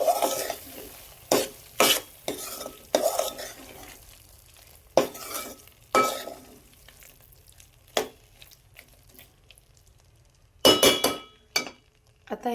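Paneer turned in a pan, repeated sharp metal scrapes and clinks of a spoon at irregular intervals, close by, over a faint low background sizzle.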